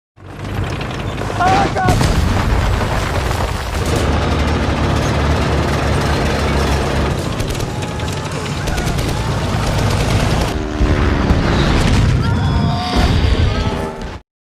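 War film battle scene of a Soviet tank attack on Finnish troops: dense, continuous gunfire and explosions fill the whole stretch, loud and close, with heavy rumbling and crashing throughout.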